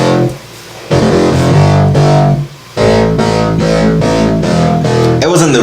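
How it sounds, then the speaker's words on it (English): A thick, bassy sampled line loops as a remix hook, dense low-end notes pulsing in steady phrases with brief dips between sections, loud and alone. "It's like a really thick, bassy line"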